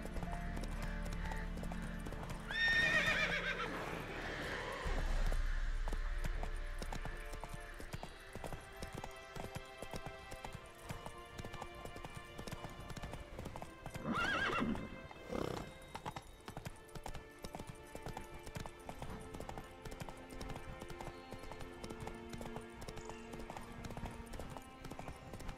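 Horse galloping in The Witcher 3, a steady rapid clip-clop of hooves throughout with an occasional snort or whinny, alongside game ambience and music.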